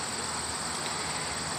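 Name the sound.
honeybees buzzing at a rescue hive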